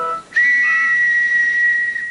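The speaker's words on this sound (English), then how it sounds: "Now, where's my whistle?" A single long, shrill whistle blast, sustained and steady for about two seconds, loud and clear with no voices.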